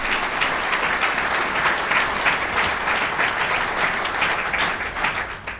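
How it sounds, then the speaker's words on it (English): An audience at a city's state-of-the-city address applauds, with many hands clapping in a steady, full burst that stays even and fairly close throughout. "Please give them a round of applause."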